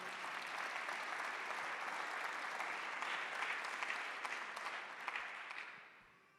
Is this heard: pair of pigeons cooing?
no